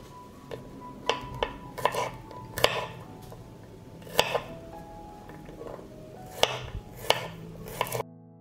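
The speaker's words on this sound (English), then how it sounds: "I will chop 6 cloves of garlic." A knife chops six cloves of garlic on a board in sharp, irregular knocks, roughly a dozen distinct strikes spread over several seconds, close and clear with faint kitchen background and no talking.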